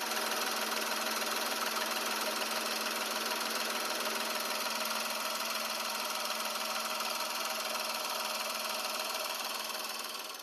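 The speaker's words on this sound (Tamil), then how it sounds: "நம்ம இந்த என்ஜினை உங்களுக்கு ஆன் பண்ணி காமிக்கிறேன்." A 2024 Renault Triber RXT car engine runs close to the microphone, giving a steady, loud, even idle hum with a fine mechanical ticking, fading slightly at the end.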